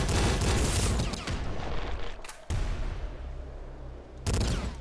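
Bursts of loud, dense gunfire from the heavy assault revolver in the video game Nuclear Throne fill the clip. The rapid shots pause briefly twice before the firing starts again.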